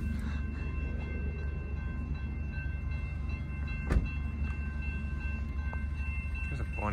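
A Norfolk Southern freight train rumbles past nearby in Muncie with a steady low roar and faint clatter of wheels, carrying on evenly for several seconds.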